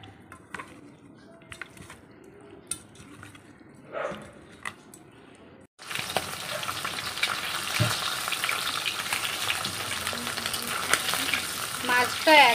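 Catla fish, salted and rubbed with turmeric, frying in a pan: a quiet stretch with small clinks gives way midway to a loud, steady sizzle that continues to the end.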